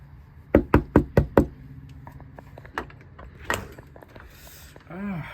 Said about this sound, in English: Let's knock on his door and head into his house.